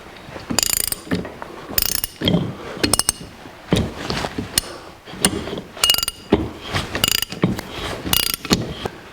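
Hand ratchet tightening the pinion nut on a 1982 Jeep CJ7 axle, a series of close, loud clicking bursts in short strokes with brief pauses between them, no talking.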